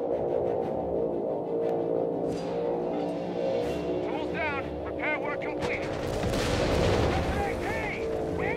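Artillery fire and battle noise in the strategy video game Company of Heroes 3, playing as US Forces: dense, continuous rumbling booms and explosions fill the soundscape, with game voice lines and whistling effects layered over the din.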